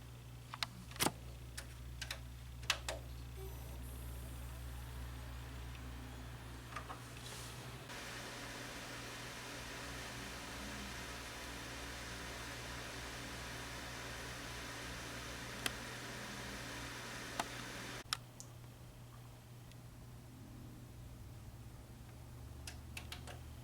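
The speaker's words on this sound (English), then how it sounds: "Here's a sound test for all 4 coolers as well as an ambient noise." Four budget CPU cooler fans run in turn for a noise test, giving a steady close whir and hiss with a few faint ticks. The tone shifts between sections as each cooler and then the quieter ambient room take over.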